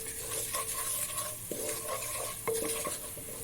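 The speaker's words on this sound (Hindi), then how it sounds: "खुश्क धनिया पाउडर हम इसके अंदर डालेंगे ये 1 चम्मच कलौंजी, और इसको हल्का सा फ्राई करेंगे।" Coriander powder and nigella seeds frying in oil for a chickpea curry, a steady soft sizzle with occasional clinks of a spoon stirring the pan, close and continuous.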